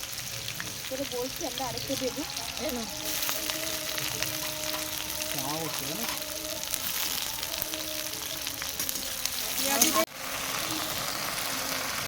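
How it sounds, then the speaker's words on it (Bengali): Native chicken meat frying in a wok at an outdoor picnic, a loud continuous sizzle and crackle close by, with voices talking over it at times. "তো দেখো কড়াইতে মাংসও পড়ে গেছে মাংস মাংস দিয়ে দিয়েছে কড়াইতে এবার মাংসটা ভালো করে কষানো হবে"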